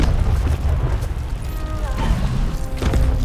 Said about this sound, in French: Ça tire à balles réelles ici.